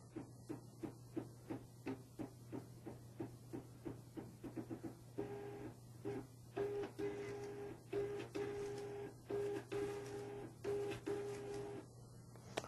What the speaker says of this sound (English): You'll see it feed several labels so that the sensor can detect the gap.